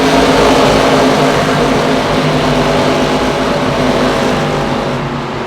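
Many ARCA Menards Series stock cars running in a tight pack at Iowa Speedway in the iRacing sim, a loud, steady layered engine drone with overlapping tones, fading slightly toward the end.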